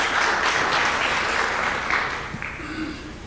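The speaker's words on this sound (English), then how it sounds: "Big round of applause to Bwana Samuel." Audience applause at the People's Anti-Corruption Summit, a sustained dense clapping that fades toward the end, with some voices faintly audible underneath.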